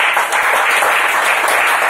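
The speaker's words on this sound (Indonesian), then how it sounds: "Tepuk tangan dong buat Anda semua" Audience applause at a motivational talk, a loud, dense wash of many hands clapping without pause, close and continuous with no voices over it.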